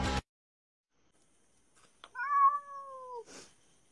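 A cat gives a single, drawn-out meow, fairly quiet and alone in a still room, after a brief burst of noise at the start.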